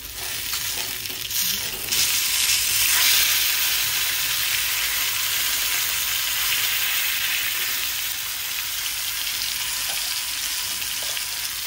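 A whole fish, browned on one side, sizzles in oil in a pan: a steady, loud, continuous frying hiss fills the clip with no talk, only slight fluctuations in intensity throughout.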